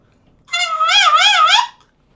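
A saxophone mouthpiece fitted with a reed and ligature, blown on its own, gives a nasal, duck-like squawk lasting just over a second, wavering in pitch with a few pulsing swells, close and clear against silence.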